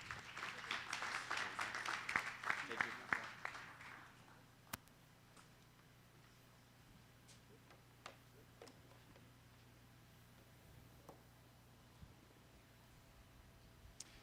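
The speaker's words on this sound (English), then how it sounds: "a round of applause for our sponsor" A summit audience applauds a sponsor: a burst of clapping for about four seconds that fades out, followed by a quiet room with a low hum and occasional clicks.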